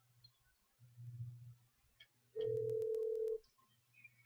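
Phone dialing the mechanic inside GTA 5: a steady, loud in-game dial tone runs about a second, after soft low game ambience, with no talking.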